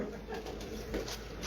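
Soft, low cooing from an antique breeder pigeon, a brief muffled murmur close by under faint background hiss.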